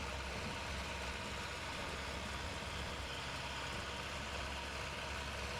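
An MTZ 1221 tractor engine in the video game Spintires idles with a low, steady rumble under a soft hiss, fairly quiet and unchanging throughout.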